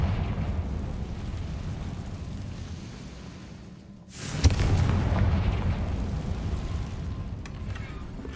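Spell explosions from Bombarda and Confringo in Hogwarts Legacy, with a deep, rumbling roar that dips briefly and then swells into a loud, sustained blast with crackling debris.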